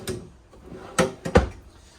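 Drawers in the kitchen of a 2025 Forest River Salem FSX Platinum 30VCVIEWX toy hauler RV, heard as a few quick, close wooden slides and knocks, with two sharper thumps near the end and no talk.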